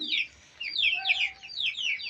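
Chickens in a rain-soaked shed after a wet night: a few soft, high-pitched clucks and peeps in quick, uneven bursts, close by and fairly quiet.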